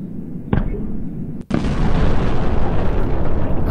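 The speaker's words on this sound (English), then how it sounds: "The whole planet exploded!" A planet blows apart in the Solar Smash video game: a short pop, then a loud, sustained roaring explosion rumbles on without letup.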